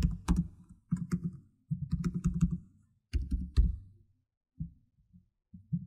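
Keys clatter on a computer keyboard while code is typed, arriving in quick bursts of clicks separated by brief pauses, close and clear with no talking.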